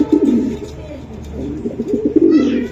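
Racing pigeons coo in soft repeated throaty phrases close by, several birds overlapping, with faint murmur of people in the background.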